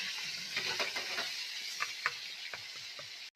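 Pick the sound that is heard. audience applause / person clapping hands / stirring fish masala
stirring fish masala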